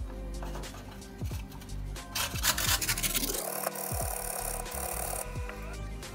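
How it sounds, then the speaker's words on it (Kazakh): Carrot rubbed against a hand grater for cabbage pie filling, a rhythmic series of close, rasping scrapes that speed up into a dense, steady shredding, with no voices. "Ең алдымен сәбізді үккіштен өткізіп аламыз."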